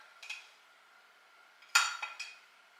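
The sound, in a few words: mixing biscuit batter with a spoon in a bowl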